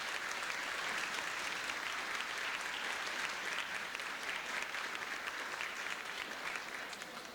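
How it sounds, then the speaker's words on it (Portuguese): Sustained applause from an audience at a formal university ceremony awarding honorary and emeritus professor titles, a dense, steady wash of clapping that stays loud and even throughout. "uma salva de palmas"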